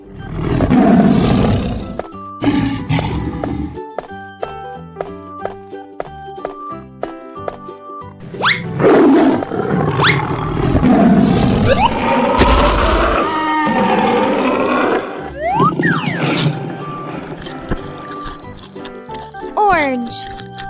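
A cartoon tiger in a children's 3D animal colouring animation gives loud roars among bright musical tones, effects and booms, with a voice talking over parts of it.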